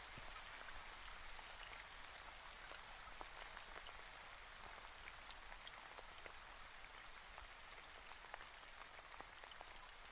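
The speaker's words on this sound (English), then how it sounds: "I'm assuming the rain is loud enough that you can hear it." Steady, dense rainfall patters on surfaces throughout, an even wash of drops with scattered sharper hits and no voices or music over it.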